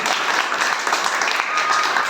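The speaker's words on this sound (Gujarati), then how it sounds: "વગાડો તાળી, જોરદાર તાળી વગાડો." A room full of schoolchildren breaks into loud, sustained applause at a Teachers' Day event at Arena Pay Center school in Mangrol, with crowded clapping held at an even level from start to finish.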